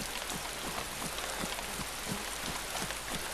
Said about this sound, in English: I'm getting heavy rain out of a sky which doesn't have any rain clouds at all.